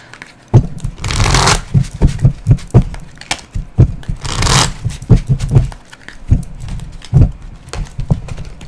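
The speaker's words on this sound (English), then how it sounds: "I can shuffle these cards." Tarot cards being shuffled by hand, with irregular soft taps and thumps in uneven rhythm, punctuated by two longer riffling bursts of cards sliding together, close and fairly loud with no speech.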